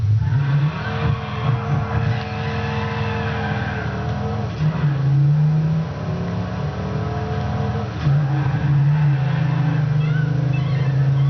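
Car engine in the racing game Midnight Club LA, droning steadily and loudly as it drives, with rising revs that drop back at each gear change and a brief tyre skid.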